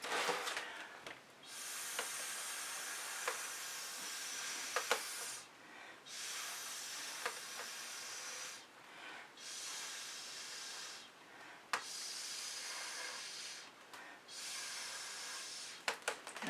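Air blown in several short hissing bursts across wet acrylic pour paint with white cell activator, each soft gust separated by brief pauses and faint background rustle.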